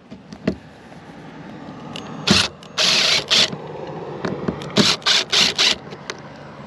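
A screwdriver backs out small Phillips screws on a motorhome clearance light being rebuilt on an old GMC. Close ratcheting clicks and short scraping bursts come in uneven spurts, fairly loud, with no voices.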